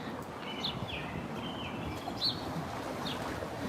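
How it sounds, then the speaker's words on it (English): Birds chirp on Main Street in historic Annapolis, Maryland, with a few thin, scattered calls over steady outdoor street hum at moderate distance. "These birds are having a great day today."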